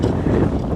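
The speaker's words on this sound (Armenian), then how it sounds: "քամին էլ բռնեց" Strong outdoor wind buffeting the microphone in a field, a loud continuous low rumble with no distinct other sounds.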